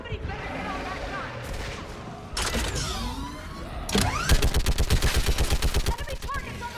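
A mounted gun in the video game Mass Effect 3 opens up in a rapid, loud burst of repeated shots after earlier battle noise and whooshing effects, with game voices heard.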